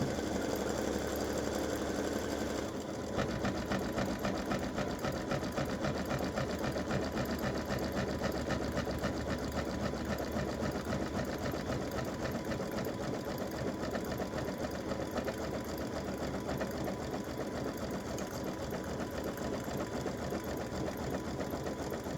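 Embroidery machine stitching appliqué elf legs for a side-seam elf hat design on a T-shirt or sweatshirt, a steady rapid needle chatter running continuously at close range after a brief pause near the start.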